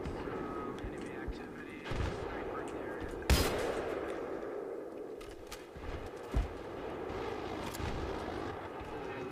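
Gunfire and explosive blasts in the video game Battlefield 3 during a tank battle on ice, with a sharp loud crack standing out over a continuous rumbling battle din and a duller thump later.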